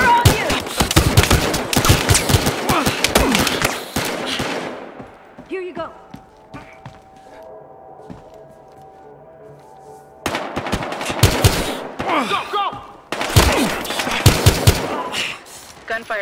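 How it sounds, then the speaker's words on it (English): Dense bursts of rapid automatic gunfire in the video game Battlefield Hardline, loud and close, with a quieter lull in the middle before more volleys resume, and voices speaking over it. "Shots fired here."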